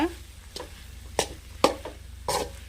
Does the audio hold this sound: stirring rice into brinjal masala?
yes